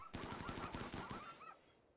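Rapid automatic gunfire in the RimWorld video game, a dense burst of evenly spaced shots for over a second, loud and close, cutting off abruptly into a quiet tail.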